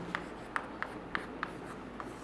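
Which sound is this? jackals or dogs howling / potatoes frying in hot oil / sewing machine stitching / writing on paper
writing on paper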